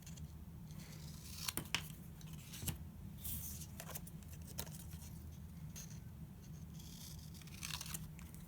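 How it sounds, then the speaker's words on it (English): Scissors cut a 2-inch strip from a sheet of colored paper, making a series of faint, close snips and crisp paper rustles over a low steady hum, with no talk. "we're going to cut off that 2-inch piece"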